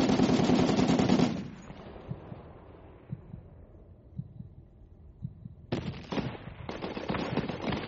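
Heavy .50 caliber machine gun fire in a video game rips out in a dense, loud burst, drops to scattered thuds, then returns in rapid repeated bursts.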